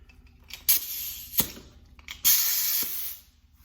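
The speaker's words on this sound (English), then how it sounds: "I just need to blow it off with the air hose" Compressed air from an air hose blows off the fuel tank of a 1967 Camaro in a garage, two loud hissing blasts with a couple of short puffs and metallic clicks between them.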